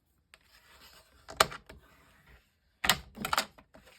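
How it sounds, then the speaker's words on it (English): A bone folder is drawn firmly along the fold of a scored 10 by 7 inch card, giving short dry scraping and rubbing strokes: one quick pass, a pause, then a cluster of louder strokes close by, with no talking. "Crease it with my bone folder."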